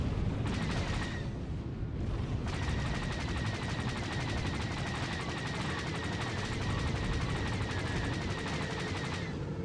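Sustained, dense rapid gunfire and blasts from a Star Wars: The Old Republic battle, loud and continuous throughout, with a brief dip near the start before the barrage resumes at full intensity.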